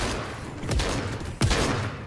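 Two sharp gunshot blasts from a video game, the first around three quarters of a second in and a louder one near the middle, each ringing over a steady bed of game background noise, with no talking.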